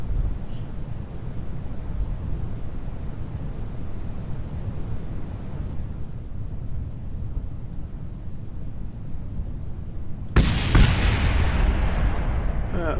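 Solar panels and spacecraft parts blow apart in a space-program video game, heard as a long rumbling wind-like roar that is then split by a sudden loud burst of crackling explosion noise.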